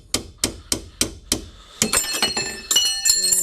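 Six sharp metallic hammer blows at an even pace on a metal part of a Shred Sled SC300 vehicle, then a quicker burst of ringing strikes with bright, bell-like overtones, close and loud.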